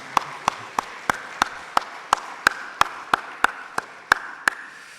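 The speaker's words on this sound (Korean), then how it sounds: "다시 한번 박수 한번 해." Congregation at an early-morning family prayer service clapping together in a steady, evenly spaced rhythm, about fifteen crisp claps over five seconds, moderately loud and close, with no talking.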